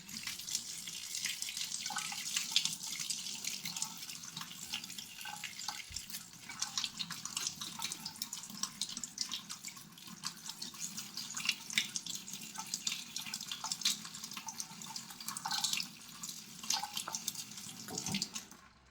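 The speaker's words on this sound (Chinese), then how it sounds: "接下来再打开水给它稍微冲洗一下。" Running tap water rinsing Sichuan peppercorns in a bowl, a steady splashing stream with small drips and rattles throughout, close and moderately quiet.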